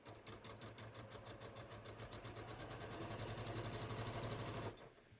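A sewing machine runs a regular zigzag stitch joining lace pieces for an heirloom garter belt, its rapid even chatter close and continuous before stopping abruptly.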